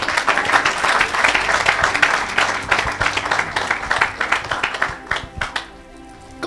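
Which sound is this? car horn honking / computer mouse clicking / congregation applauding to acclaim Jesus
congregation applauding to acclaim Jesus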